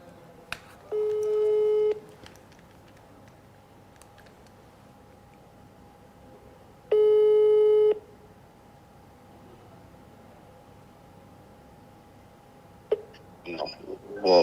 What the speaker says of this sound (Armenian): Հիմա զանգով միանանք քահանային։